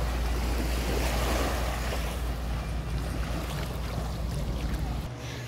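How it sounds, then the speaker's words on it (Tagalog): Ocean surf washes in a steady, broad roar at Big Lagoon, El Nido, Palawan, with a low rumble underneath and wind over the microphone; no one speaks. "Tahimik at alon lang ang maririnig nyo."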